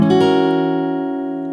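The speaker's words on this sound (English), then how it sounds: "An E6 flat 5 add 9 chord." A single E6 flat 5 add 9 guitar chord struck once, ringing out with rich overtones and slowly fading over a second and a half.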